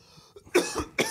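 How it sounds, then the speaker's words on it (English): A person coughs close to the mic during a casual podcast recording, a faint throat sound followed by two sharp, loud bursts about half a second apart. "You think we could tone it down with the coughs?"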